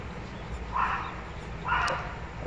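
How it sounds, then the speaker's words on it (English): A dog barks in the background during a video game session, two separate bursts each lasting roughly half a second, muffled and moderately distant beneath a steady low hum. "Sorry about the barking."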